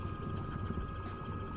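A Robinson R66 helicopter in Microsoft Flight Simulator 2024 drones with a steady turbine whine and low rotor rumble, a continuous even tone from inside the cabin that holds without change.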